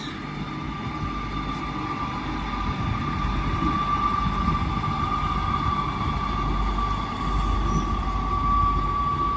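A single-unit Class 158 train at Wigan North Western station, heard as a steady loud rumble of engine and rolling wheels with a faint high squeal, sustained and close throughout.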